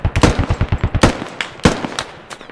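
Rapid machine gun fire in the Squad military shooter with a Middle East mod, a fast rhythmic burst of about a dozen punchy shots followed by a few scattered, more distant reports.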